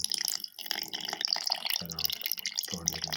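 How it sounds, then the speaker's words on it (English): Milk pours and splashes in short bursts, gurgling as it fills a blender jar holding mango and banana pieces, close up with no talking. "Pour in"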